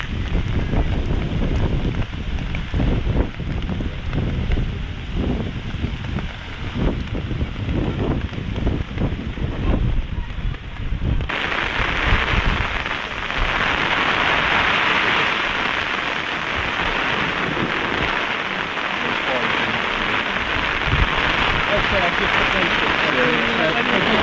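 Heavy, driving rain and howling wind roar loudly into the microphone. The buffeting is coarse and unbroken at first, then gives way to a brighter, steady blast of wind-driven spray.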